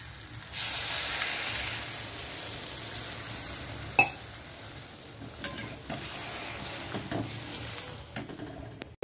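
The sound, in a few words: shrimp frying in a pan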